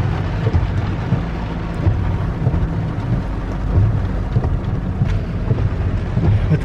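Heavy rain pours steadily with deep, rolling rumbles of thunder underneath, continuous and close.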